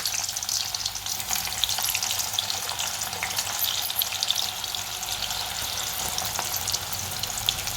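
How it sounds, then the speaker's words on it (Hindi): Onions frying in about three spoons of hot oil, a continuous even sizzle with faint watery crackle, steady and close throughout. "अब हम इसमें प्याज को तल लेते हैं।"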